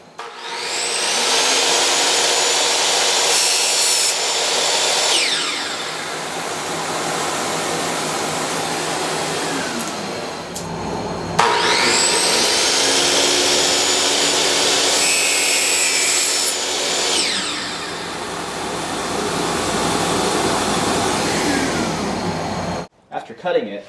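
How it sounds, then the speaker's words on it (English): A miter saw cuts plywood edge banding to length: two loud, close whining cuts, each spinning up, biting through for several seconds and winding down, separated by a short pause. "Then I can take my piece over to the miter saw and cut it to size."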